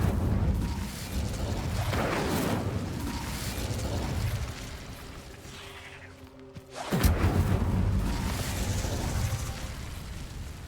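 Incendio fire spell cast in the Hogwarts Legacy video game, heard as loud, roaring bursts of fiery whoosh, with a brief quieter gap before another strong blast flares up.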